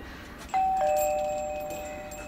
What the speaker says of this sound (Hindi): घंटी बजा रहा हूँ, खोलता नहीं।